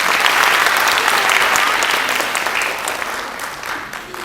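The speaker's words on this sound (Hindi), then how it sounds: "जोर से तालियां।" Audience applause fills a National Maths Day event hall, a loud, dense clapping from a large crowd that stays strong before gradually easing off.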